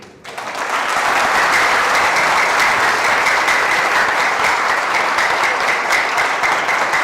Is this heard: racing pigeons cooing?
no